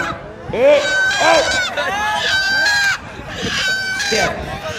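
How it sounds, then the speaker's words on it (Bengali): A rooster crows loudly and repeatedly from a stage during an outdoor religious sermon gathering, its harsh, wavering calls close and overlapping, with some voices in the background. "মোরগ চলে আসে"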